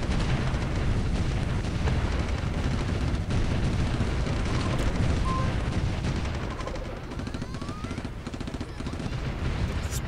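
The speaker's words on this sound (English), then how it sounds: "Explosion! We got it!" In the strategy game Supreme Ruler 2020, battle sounds play as a dense, continuous barrage of gunfire and explosions, loud and sustained throughout with faint talk mixed in.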